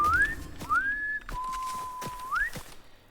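Melodic whistling by a person, rising and sliding tones held across a few seconds, fairly close and clear over a low background rumble with faint thumps.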